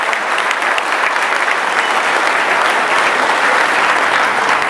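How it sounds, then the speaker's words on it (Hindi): A large audience at a mushaira poetry gathering in Mysore bursts into steady, loud applause that holds at an even level throughout. "एक बार जोरदार तालियों से आप इस्तकबाल"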